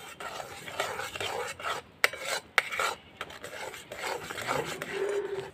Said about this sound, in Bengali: অল্প অল্প করে সুজিটা দেব আর মেশাতে থাকবো